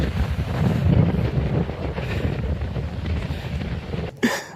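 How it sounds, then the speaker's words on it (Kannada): Strong wind roars across a microphone on a hilltop by a temple, a loud continuous buffeting rumble that swells and eases, ending with a brief sharp rustle near the end; no speech. "ಎಷ್ಟು ಗಾಳಿ ಬೀಸ್ತಾ ಇದೆ ಗೊತ್ತಾ"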